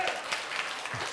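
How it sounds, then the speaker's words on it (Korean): A church congregation claps in praise, a brief burst of moderately quiet, even applause with a voice faintly present underneath. "하나님께 영광의 박수를 드려요."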